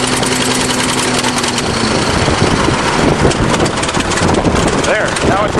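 A big 1953 bulldozer has just switched from gas to diesel, and its engine runs loud and close with a rough, rapid knocking chug. A voice speaks briefly under the noise.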